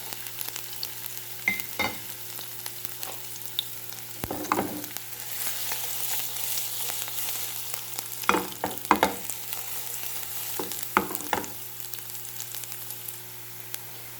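Spinach cooking in olive oil, a soft steady sizzle with occasional stirring clatters and scrapes of the pan, fairly quiet and close, with no talking.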